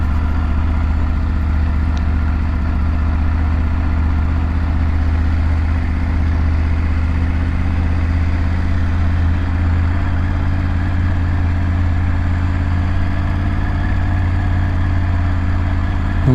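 A car rolls slowly at walking pace through a village with old houses, a small bridge and an old church, its engine a low, steady rumble close by with no acceleration.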